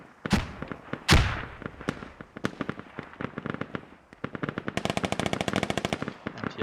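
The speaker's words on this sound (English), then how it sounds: "I don't know what these guys are firing at." Automatic and single gunfire in the Squad military shooter, loud sharp bursts early on giving way to a sustained rapid machine-gun rattle near the end, with no talking.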